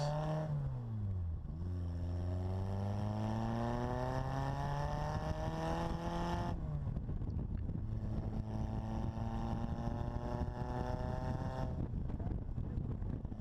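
Supercharged five-speed Bugeye Sprite engine pulls hard through the gears while driving, its loud buzzing note climbing in pitch, dropping sharply at each shift, then rising again, with wind noise and no talk.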